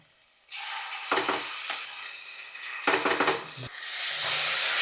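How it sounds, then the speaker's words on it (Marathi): Ground green masala paste added to onions fried light pink sizzles loudly in a pan, with a few sharp stirring scrapes and clinks as the frying hiss builds. "वाटण परतून घेऊया आणि हे बघा वाटण आपण मस्त परतलं"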